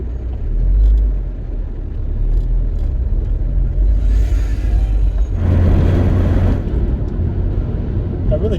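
Interior of a 420GSi car on the move, a steady low engine and road rumble running throughout with a brief swell of broadband wind or tyre noise midway.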